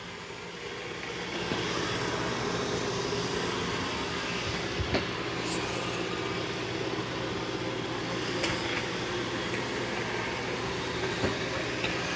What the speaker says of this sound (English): that's doing a great job of mopping and vacuuming